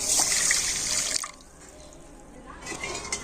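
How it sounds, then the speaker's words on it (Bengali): Water poured from a bowl onto sugar to start a syrup for a semolina sweet, a close, steady trickling splash that stops partway through and briefly resumes at the end. "আর ওই বাটির মাপ করে দিয়ে দিচ্ছি 1 বাটি জল।"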